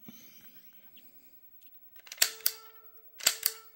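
Light-gun shots in the NES Zapper game Hogan's Alley B, heard as two bursts of bright electronic blasts, each a sharp crack with a short ringing tone, about a second apart after a quiet lead-in.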